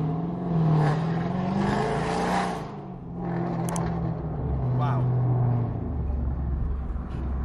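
An SRT Jeep being driven: a steady engine rumble and road drone runs throughout with some revving swells, heard from inside the vehicle while people talk over it.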